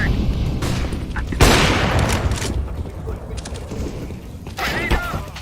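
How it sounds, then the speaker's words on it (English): A flashbang grenade is thrown in a first-person shooter video game, going off as a sharp, bright burst amid ongoing mechanical clatter and scattered gunfire, with no talking. "I am throwing a flashbang."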